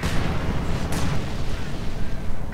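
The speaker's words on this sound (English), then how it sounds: "Incendiary barrage against the positions here, causing theirs to collapse." An incendiary artillery barrage in the video game Company of Heroes 2 booms as a dense, loud burst of explosions rolling continuously, with a sharp crack near the one-second mark.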